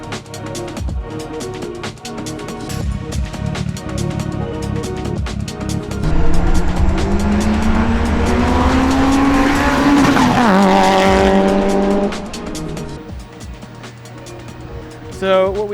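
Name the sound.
2006 Mitsubishi Evo 9 car driving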